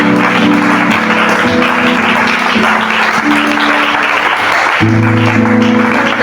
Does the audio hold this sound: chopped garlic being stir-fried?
no